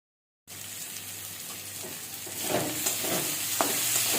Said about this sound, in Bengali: করলা ভাজা হয়ে গেছে দেখো কত সুন্দর নরম